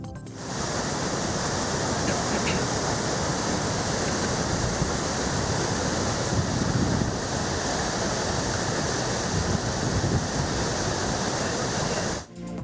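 Water released from the KRS dam into the Kaveri river roars in a loud, unbroken rush of torrential flow, steady and close for the whole stretch, with no voices.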